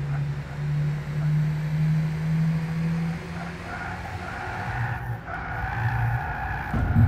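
Cars skidding and bumping into one another in the racing video game Gran Turismo 6, a steady rumbling engine drone with hollow, muffled knocks and tire scrubbing running throughout at constant loudness.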